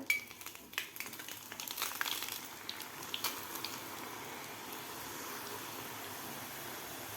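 Besan sev frying in hot oil, a steady broadband sizzle and bubbling that crackles more busily at first, then settles into an even, moderate hiss for the rest.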